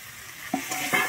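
Fried yard-long beans drop into sizzling spice masala in a pan, a soft background hiss broken by two brief scraping, clattering bursts from the stirring spoon, with no talk over it.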